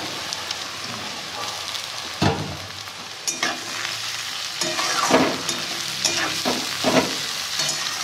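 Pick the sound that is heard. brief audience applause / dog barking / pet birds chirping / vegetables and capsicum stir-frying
vegetables and capsicum stir-frying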